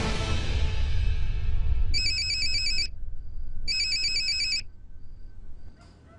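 An electronic phone ringtone chimes in two bursts with a pause between, over a low rumbling background that fades out.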